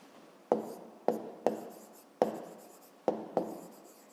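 Pen strokes on paper while working a fifth-grade maths exercise, six short scratchy bursts at irregular intervals, close and fairly quiet, with no voices.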